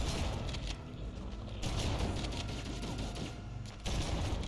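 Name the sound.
enemy gunfire in Halo video game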